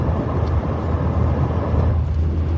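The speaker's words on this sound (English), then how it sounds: "here we are in our noisy car again" Interior of a noisy car on a cold winter day, driving along with a constant low engine and road rumble, loud and steady throughout, with no voices.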